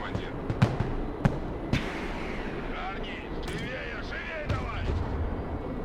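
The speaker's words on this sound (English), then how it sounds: "We are under direct fire from vehicles." Gunfire from vehicles in the Broken Arrow war game: a few sharp, separate shots and booms over a steady battle rumble, with a voice talking under them.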